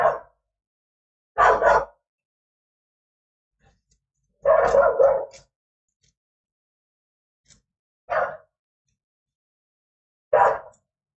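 A dog barks loudly and close by in five separate bursts of one or two barks each, spaced a few seconds apart with near silence between them.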